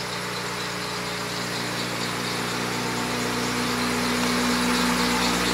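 A car engine that had sat unstarted for months idles steadily at close range, a continuous low rumble with a faint vibration and no voices over it.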